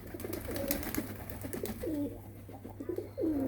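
Young pigeons coo repeatedly close by in soft, low, rolling calls, several in a loose rhythm over a faint steady hum and light background noise.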